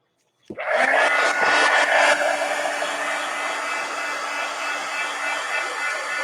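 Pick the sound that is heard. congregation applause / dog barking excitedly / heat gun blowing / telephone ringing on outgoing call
heat gun blowing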